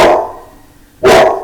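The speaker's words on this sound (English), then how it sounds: "that's my dog barking at the UPS guy." A pet dog barks at a delivery driver at the door, two sharp loud barks close by, separated by a short pause.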